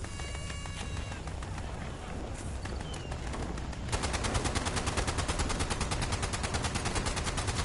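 Anti-armor prime Gauss minigun fires in Fallout 76, a dense, continuous stream of rapid shots. It grows louder and more regular midway through.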